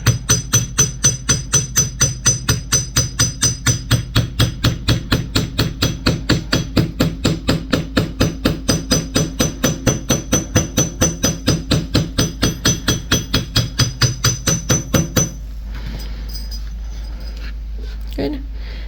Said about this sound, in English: take our hammer and just gently tap all the way around